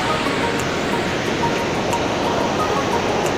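Water rushes steadily over the Wawa dam in Montalban, Rizal, a dense, constant roar of falling water heard up close, with no pauses and no voices.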